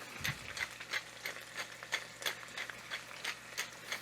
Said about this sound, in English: We're going to do a few turns of black pepper.